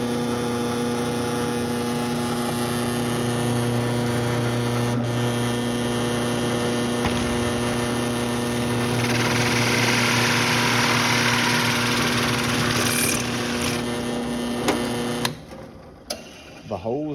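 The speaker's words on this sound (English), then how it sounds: "Drill press, this is great because it gives them more of a precise cut instead of having to use a hand drill." A drill press's steady mechanical motor hum with a tonal whine runs for a long stretch while drilling a hole in a bee feeder bucket, then cuts off abruptly near the end, leaving brief clatter.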